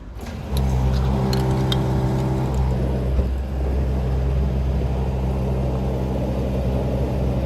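A Mazda 3 MPS idles and then pulls away, its engine a steady low rumble with a firm hum close by, lasting throughout with no talk.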